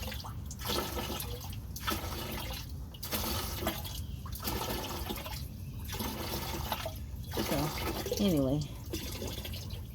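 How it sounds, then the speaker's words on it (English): Diesel exhaust fluid pumped from a Ram 3500 Cummins 6.7 splashes and trickles into a 5-gallon bucket in quiet, intermittent pours, with someone talking over it. "Okay, I have gotten every bit of what this pump is gonna get out."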